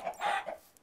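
A chicken in the video game Minecraft gives a short, soft cluck, a brief couple of quiet clucking notes under a second long with no speech.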